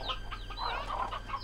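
Chickens in the Slime Rancher 2 video game cluck in quick, overlapping bursts, with several birds calling near and fairly clear over a low steady hum.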